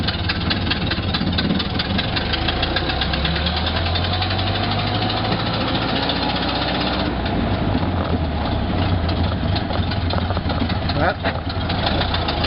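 A Ford Model A engine runs steadily after a timing adjustment, a continuous loud, close engine rumble with a low throbbing idle and no break across the whole stretch.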